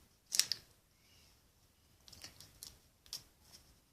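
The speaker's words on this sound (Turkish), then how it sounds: "Buna da küçük makas uyar bence." A few sharp, small snips close by, a quick cluster near the start and then scattered clicks, quiet between cuts.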